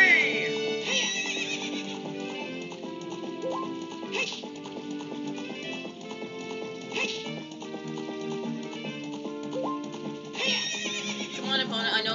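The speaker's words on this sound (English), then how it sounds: "That ride! Ride! Hi-ho, Silver! Away!" In Ocarina of Time, a horse neighs and whinnies repeatedly over steady clip-clop hoofbeats of a gallop, set against looping game music, with the shrill calls rising clearly at intervals.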